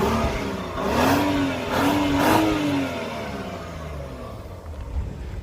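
A BMW 535i sports sedan engine revs three times in quick succession, each rise and fall sharp and close, then settles into a steady idle.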